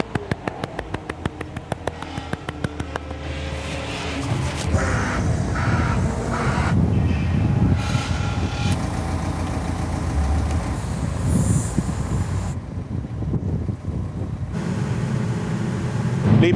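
A train rumbles past nearby with rhythmic clicking of wheels at first, building into a steady loud roar of passing cars.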